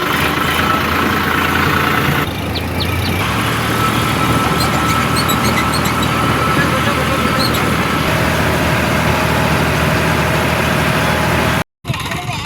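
A tractor engine idles in a farm field, a steady low rumbling chug that holds throughout, with a brief cutout near the end and faint voices in the background.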